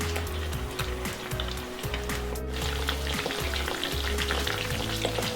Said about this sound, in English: I'm just going to separate these beef slices as I'm putting them into the wok